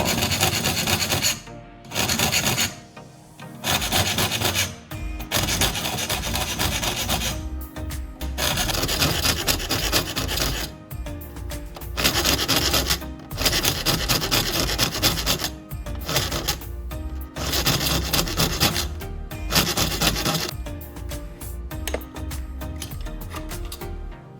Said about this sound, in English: I focus on filing the tips of the saw teeth